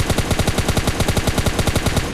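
Rapid automatic gunfire in PUBG Lite finishes off a knocked-down player, a fast, evenly spaced burst of about twenty loud shots rattling without pause for two seconds.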